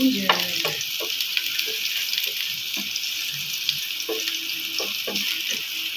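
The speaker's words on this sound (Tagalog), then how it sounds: "Brown lang natin konti guys." Ginger sizzles in a hot pan with garlic, a steady close frying hiss broken by occasional stirring knocks and scrapes, with no voices.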